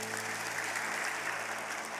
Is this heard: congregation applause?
yes